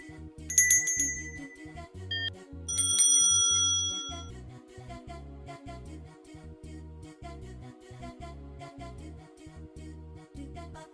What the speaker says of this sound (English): I will add a bell sound for the answer part